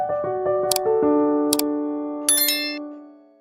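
Bright chime-like dings ring out in quick succession, a few sharp metallic taps overlapping their long, clear ringing tones, which fade gradually at the end.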